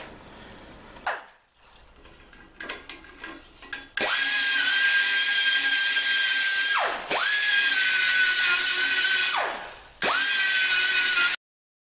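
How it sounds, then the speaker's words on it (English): A die grinder cleans up a metal part for a homemade plastic injection molding machine, giving three sustained high-pitched whining runs that each spin up abruptly and wind down, with quieter handling noises before the first. "I'll just clean that up a bit, I think, with the die grinder."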